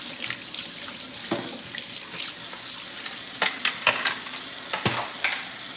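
A kitchen sink tap runs steadily while a utensil is rinsed under it, a continuous hiss of water with scattered clinks and splashes, close and moderately quiet, with oil sizzling faintly nearby.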